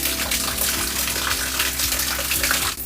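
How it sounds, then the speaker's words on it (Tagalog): A small waterfall at an abandoned temple in Japan pours in a steady, close, unbroken rush of falling water, with no voices over it. "Itong maliit na talon na ito para magdasal."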